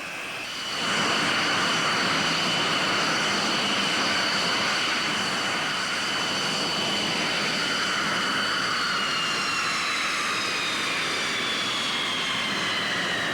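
Fighter jet turbines spool up into a loud, steady takeoff roar with a bright whine, holding strong and continuous from the first second onward.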